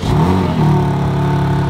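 BMW M3 Competition accelerating on a test drive, a close, loud engine note rising steadily with no speech.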